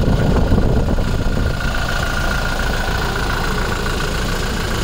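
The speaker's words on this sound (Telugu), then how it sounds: "ఇంజన్ సౌండ్ చూడండి" A 2019 Toyota Innova Crysta 2.4 Z diesel engine idles close up, a loud steady clattering rumble with an even rhythmic diesel knock throughout.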